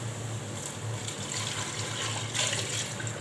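Hot water pouring into a pot of lamb meat while preparing a stuffed potato and squash dolma dish, a steady, close rushing stream that holds continuously and swells briefly near the end.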